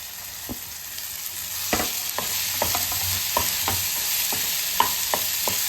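Finely chopped mushrooms tip into a hot pan and are stirred, a steady sizzle of frying broken by a string of sharp scraping clicks from the spoon against the pan, with no talking.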